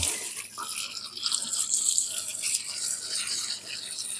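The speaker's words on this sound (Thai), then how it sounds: "ฉีดน้ำเข้าไป" Water sprayed into tightly packed soil around a caladium plant in a pot; a close, continuous hissing spray with gurgling and splashing that shifts in intensity throughout, no talk.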